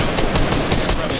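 Rapid SMG gunfire in a competitive shooter tournament match, a fast, even run of loud shots that keeps going the whole time.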